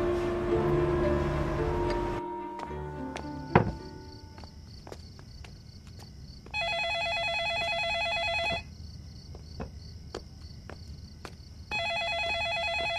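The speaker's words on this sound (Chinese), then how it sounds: "电话 来了。" A telephone rings at a small noodle shop, sounding in two bursts of bright electronic trills separated by quiet gaps filled with soft ticks and footsteps.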